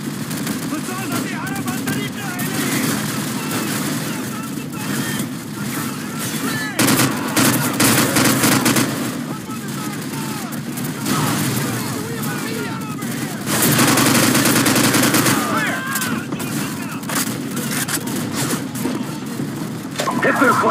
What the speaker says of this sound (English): Jackson, get their machine gun.